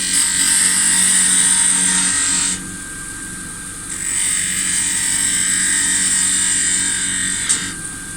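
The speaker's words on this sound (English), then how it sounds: "we're going to do it with the roughing gouge, with the spindle gouge again, so it's a large bead we're turning" A large bead is cut on a wood lathe with a spindle gouge, giving a steady hissing scrape over the spinning motor's hum; the cut stops for about a second, then resumes, and no one talks.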